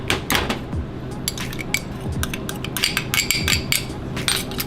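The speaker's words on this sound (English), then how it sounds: "now we're gonna mix the tomato mix with the salsa" Tomato mix stirred together with salsa in a bowl, a busy run of spoon scrapes and clinks against the dish, close and fairly loud, with no talking.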